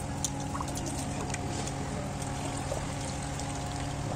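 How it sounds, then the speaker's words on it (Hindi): Continuous water splashing and trickling close by as cluster figs are rinsed in a bowl, with faint clinks over the wash. "एक बार और पानी से धुल लेते हैं।"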